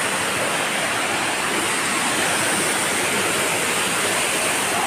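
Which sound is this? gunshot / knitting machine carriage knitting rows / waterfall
waterfall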